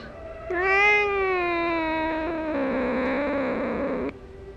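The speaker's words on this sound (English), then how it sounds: "Why are you a mean kitty, Mercury?" A cat meows loudly in one long, drawn-out, wavering yowl lasting several seconds, close to the microphone.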